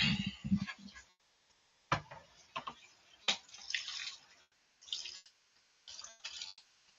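Water poured from a container onto freshly planted seeds in an indoor grow setup, heard as several separate splashing, trickling bursts with quiet gaps between them, close and fairly soft.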